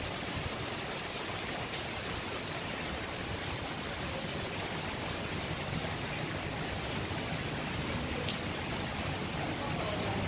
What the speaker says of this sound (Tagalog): Na maulan, ang lakas ng ulan.